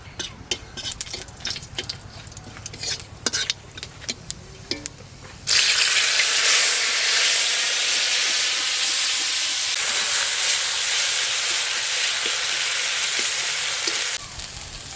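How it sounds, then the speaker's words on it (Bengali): Ground gandal leaf paste hitting hot oil with cumin tempering in a village kitchen: scattered clicks and taps come first, then a sudden loud, sustained sizzling roar that holds steady for several seconds before easing slightly. "এবারে তেলের উপরে গাঁদাল পাতাটা দেবো"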